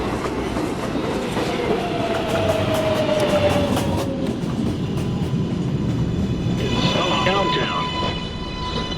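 A New York subway R142A train on the 1 line runs along the track with a steady roar, rhythmic wheel clatter and rising motor whine throughout.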